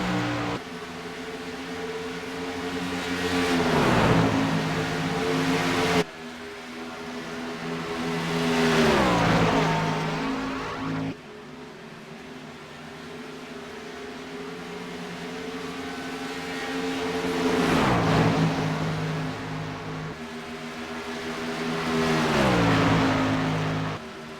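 Racing trucks lap Texas Motor Speedway in the GAC Racing Truck Series, their engines droning loudly and sweeping past in repeated waves about every five seconds.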